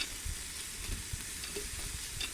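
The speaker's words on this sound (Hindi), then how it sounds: "इसे अब हम भूनेंगे इसमें। चम्मच को आप मुसलसल हिलाते रहें" Grated carrots fry in ghee with a steady soft sizzle while a spoon stirs them, scraping and clinking against the pan in irregular light taps.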